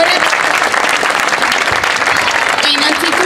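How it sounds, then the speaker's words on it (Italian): An audience applauds the sports councillor at the A.C. Legnano presentation, with dense, steady clapping that fills the whole stretch at loud, even strength and a brief tonal note near the end. "un applauso all'assessore"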